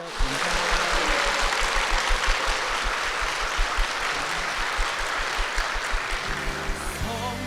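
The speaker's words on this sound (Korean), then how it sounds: "힘찬 박수 부탁드립니다" A church congregation applauding, dense sustained clapping filling the room at a steady level for several seconds before fading as music begins at the end.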